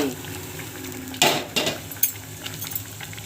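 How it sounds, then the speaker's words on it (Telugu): Hot tempering for katte pongali is poured into the boiling pongal, giving a few sharp sizzling bursts over a low bubbling simmer, with faint clinks of a metal pan. "ఇప్పుడు ఈ ఉడుకుతున్న పొంగల్లో ఈ పోపుని తీసుకెళ్ళి వేసేయండి"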